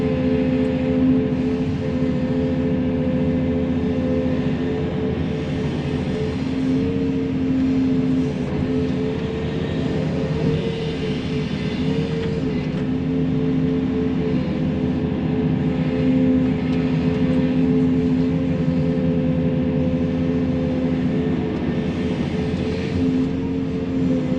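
A heavy 350 excavator digs and loads dirt for a truck to haul. It gives a steady loud diesel drone with engine harmonics and a constant churning rumble throughout, no pauses and no voices.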